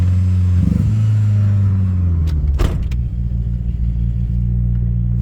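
Close engine note from a car with a misfire, a sustained low drone that rises in a rev and then sinks back to a steady hum, broken by a brief clunk partway through.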